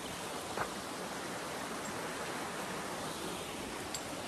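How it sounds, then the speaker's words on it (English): A stream flowing along a waterfall trail in the hills outside Pasadena, California, a steady broadband rush of water that stays even and moderately faint throughout, with no one speaking. "Water's flowing."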